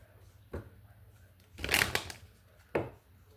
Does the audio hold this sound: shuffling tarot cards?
yes